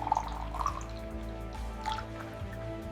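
Fresh, creamy cashew milk poured from a bottle in a factory, a steady close liquid stream with small dripping and gurgling splashes over a constant low machinery hum.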